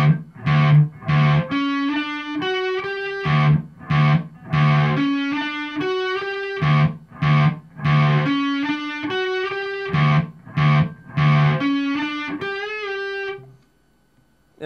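A distorted electric guitar plays a riff: repeating chugging low notes and higher bent notes, finishing on a sustained ringing note.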